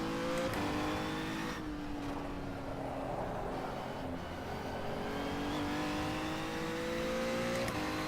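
Renault Megane race car engine in rFactor 2 at Autodromo di Mores, a steady loud drone with shifting pitch as the car drives on, revving up and easing off throughout.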